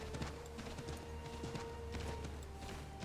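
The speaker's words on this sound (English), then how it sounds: "get on the horse." Horse hooves clip-clopping in Assassin's Creed III Remastered, a quick regular beat of hoofbeats at moderate distance, faint and steady over low game ambience with no talk.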